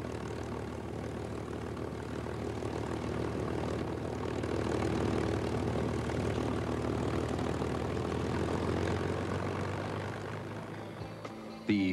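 A P-51 Mustang fighter plane's piston engine drones steadily and loudly with a propeller buzz, swelling slightly midway and holding on before a brief disturbance at the end.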